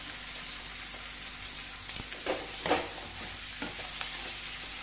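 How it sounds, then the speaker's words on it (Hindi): Capsicum and onion frying together in a pan, a steady close sizzle with a few louder crackles and stirring scrapes, no voices. "शिमला मिर्च और प्याज को साथ में ही डालेंगे तो दोनों थोड़ा थोड़ा सॉफ्ट हो जाए।"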